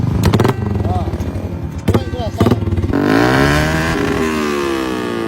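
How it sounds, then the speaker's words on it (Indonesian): A motorcycle with a loud, raspy aftermarket exhaust revs in sharp bursts during a police traffic stop, then holds a rising, roaring rev; voices talk briefly over it. "Kira-kira orang nyaman nggak dengar suara knalpotmu ini?"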